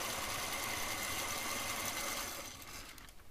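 A vintage LEGO 12V train engine from the 1976 726 Western Train set runs with a steady buzzing motor whir and faint rattle, constant and close, then fading lower near the end.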